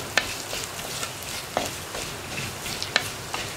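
Spices with fenugreek and cumin powder are stirred in a hot pan, a soft continuous sizzle broken by a few sharp spatula taps and scrapes, close and moderately loud, with no speech.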